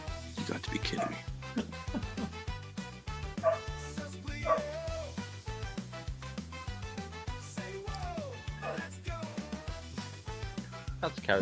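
A dog barks and yips repeatedly from close by, mixed with whimpers, while people talk loudly over it throughout.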